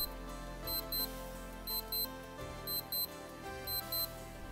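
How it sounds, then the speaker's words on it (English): A Benly Design X6000 metal digital watch sounds its alarm: short, bright electronic beeps in quick pairs and triplets, repeating in a steady pattern over a faint background hum. "Here's how the alarm sounds."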